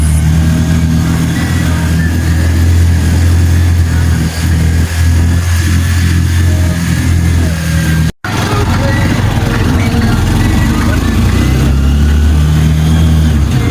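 Tricycle engine running steadily on a ride through Trinidad, Benguet, a close, low droning hum with slight revving that cuts out briefly near the middle before resuming.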